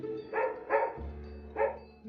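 A dog barks at an airport animal reception centre, giving three sharp, fairly close barks in an uneven rhythm over a low mechanical hum.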